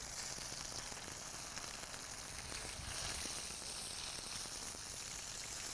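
Battered fish fries in a hot pan, giving off a dense, steady sizzle that stays even and close throughout, with no voices.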